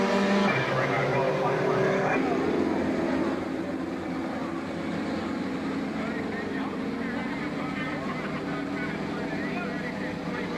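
Race cars at Star Speedway roaring back up to speed on a green-flag restart, engines droning loudly and shifting pitch as the pack passes, with a commentator talking over them.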